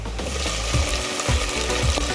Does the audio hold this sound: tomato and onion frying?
yes